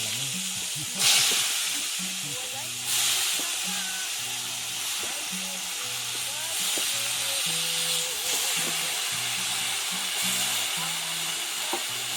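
Garlic and ginger sizzle steadily in a pan over an open fire, a soft continuous hiss with a few brief stirring scrapes, under a low rhythmic hum in the background.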